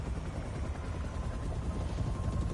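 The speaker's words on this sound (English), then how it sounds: "A helicopter takes off, carrying the glass-walled cell toward the raft prison." A helicopter takes off in the video game Marvel's Spider-Man 2, carrying a glass-walled prison cell, its steady rotor thrum and engine rumble loud and continuous, with no talking.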